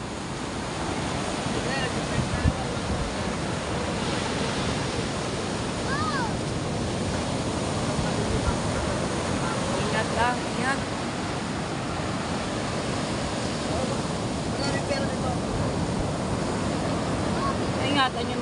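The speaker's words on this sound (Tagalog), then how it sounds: "Ayan, napapasok naman ulit ang tubig. Lumalaki naman ang tubig." Sea waves surge onto the shore at a river mouth beside houses, a loud, constant roar of surf with wind buffeting the microphone, while a voice calls out briefly over it.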